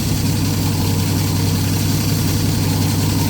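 A small engine running on a $74 Amazon carburetor idles with a steady, close, loud low rumble and even vibration throughout, with no voices.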